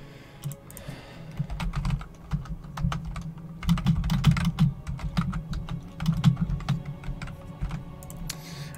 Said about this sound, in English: I do apologize if there's going to be a lot of typing on my keyboard.